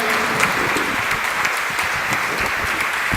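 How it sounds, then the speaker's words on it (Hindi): Loud, sustained audience applause welcoming a speaker at a talk on dharma and peace, dense even clapping from a large crowd with no speech over it. "जोरदार तालियां सर के लिए।"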